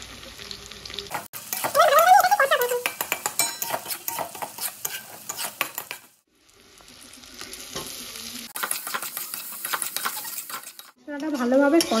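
Ground spices such as turmeric, cumin, coriander, salt and chili powder sizzle and get stirred in a frying pan, with scraping strokes, bursts of frying and a short pause, close and fairly loud with no talking.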